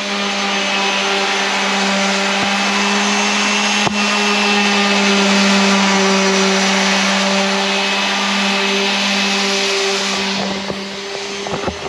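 A power sander runs steadily on wooden beams, a loud, continuous close-up whine with a constant hum, easing off near the end.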